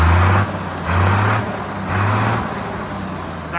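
A Farmall 1206 tractor engine runs steadily nearby, a deep low drone that swells and eases in a slow repeating pulse, roughly one surge every second, with no talk over it.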